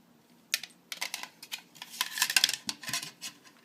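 Plastic parts of a NutriBullet blender clatter and click as a piece is twisted off, a close series of sharp irregular taps and rattles with no speech.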